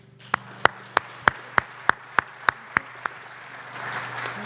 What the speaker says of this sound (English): A round of applause for Annika Sorenstam.